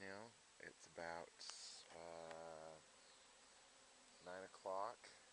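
Honey bees buzz around an open hive during burr comb removal in the morning, with faint, close passes of droning wingbeats coming and going in short bursts over quiet outdoor background.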